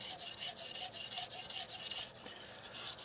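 A Shirogami steel nakiri is drawn across a Japanese natural sharpening stone in repeated soft, gritty rasping strokes, an even rhythm of close, quiet scrapes with no voices.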